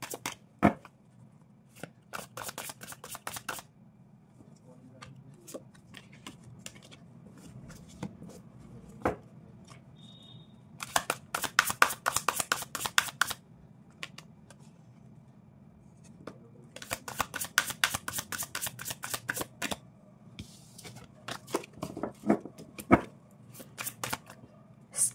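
A deck of tarot cards is riffle-shuffled in several separate bursts of rapid crisp flutter, each lasting a few seconds, with quiet pauses and soft handling clicks between them, close and alone.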